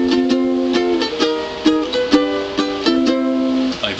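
Ukulele plucking the intro of a song, a bright, close melodic phrase with clear individual notes and a gently swinging rhythm, played alone.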